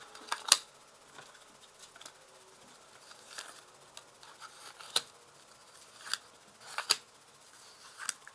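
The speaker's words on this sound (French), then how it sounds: "On va placer les cartes ici" Soft scattered card snaps and slides as five tarot cards are laid out one by one on a table, faint and close, with sparse clicks spread through a quiet room.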